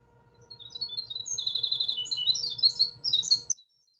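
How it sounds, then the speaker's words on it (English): A small forest bird sings one long, high, rapid warbling phrase lasting a few seconds, clear and fairly close over a faint low hum, then stops. "for such a little bird, they really belt out this kind of long, drawn out kind of warbling song here"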